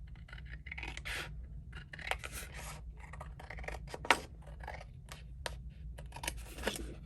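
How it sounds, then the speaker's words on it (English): Scissors cut out a paper album page along its score line, a faint, close series of quiet snips and rasping paper rubs in irregular bursts, with no talking. "we're going to cut out this bottom score"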